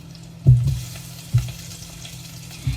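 Garlic and onion fry in oil for Filipino adobo, a soft low sizzle broken by three heavy thuds and scrapes of a utensil stirring in the pan, with no voices.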